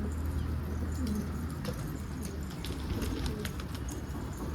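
Wild pigeons coo repeatedly in a low, soft rhythm, with faint chirps and light outdoor background noise, no talking.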